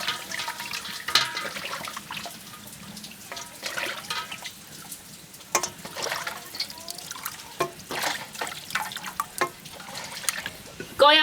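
Tap water runs and splashes while pig trotters are washed piece by piece in a kitchen, a close, soft, irregular trickling and clattering, with someone talking over it.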